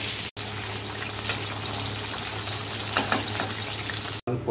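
Pointed gourd (potol) frying in hot oil for potol kurma, a continuous loud sizzle with crackling spatter throughout and no talk.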